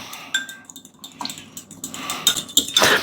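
Wartime 1940s vegetable stew stirred in a pot, with a spoon scraping and clinking against the sides in several short, close scrapes and taps over a soft background.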